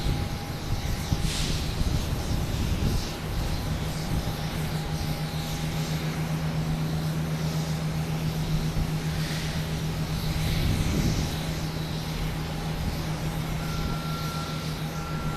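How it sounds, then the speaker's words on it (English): Steady distant engine drone of a Cape Air plane arriving or departing at Boston Logan Airport, a continuous low hum with a faint tonal whine, carrying on evenly throughout with no talk. "We had a Cape Air coming in from Nantucket, and a Cape Air going to be heading to Lebanon"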